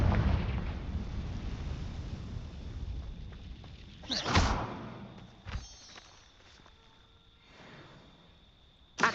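Confringo explosion spell cast in the video game Hogwarts Legacy: a loud rumbling blast that fades into a crackling tail, followed by a few sharper bursts and thuds.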